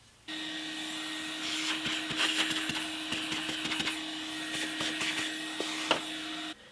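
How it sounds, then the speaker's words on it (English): A workshop dust extractor drones steadily and fairly close. Scattered light crackles and taps sit on top of the hum while a guitar fretboard is being finished. "I'm applying the dust extractor regularly."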